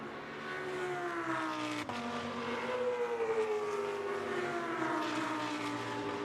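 A GT2 race car in the Fanatec GT2 European Series at Spa-Francorchamps drives down the pit road with a steady engine drone, its pitch slowly falling and rising as it passes close by.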